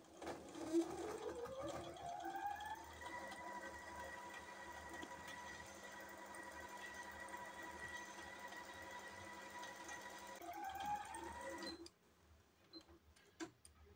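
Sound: sewing machine stitching a jumpsuit

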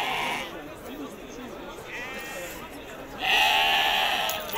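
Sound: sheep bleating at a livestock market

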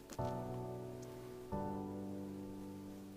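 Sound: rain falling on the road

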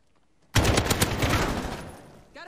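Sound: gunfire in video game Call of Duty

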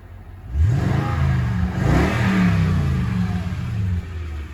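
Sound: Toyota Tundra 1794 Edition 5.7 V8 engine revving

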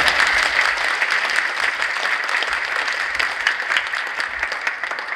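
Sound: audience applause

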